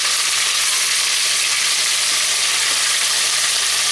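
Two pounds of chopped sirloin fries in a heated pot for cowboy chili, giving a loud, dense, unbroken hiss of sizzling fat with no voices over it.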